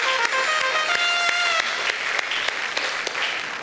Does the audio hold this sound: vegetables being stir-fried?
no